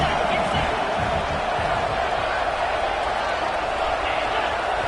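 A packed stadium crowd at a football game roars in a steady, loud, continuous wall of noise, with a commentator's voice over it.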